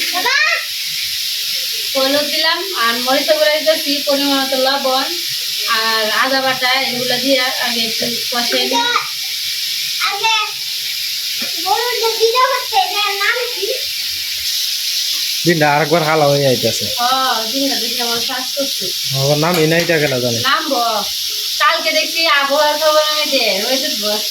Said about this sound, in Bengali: পেঁয়াজ রসুন বাটা দিলাম আর পেঁয়াজ আর রসুন আস্তে আস্তে করে কুচি কুচি করে কেটে দিচ্ছি